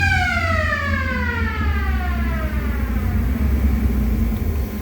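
Replica Mayberry police car built on a 1961 Ford Galaxie, its siren wailing loud and close in long falling sweeps over a steady engine rumble, with no talking.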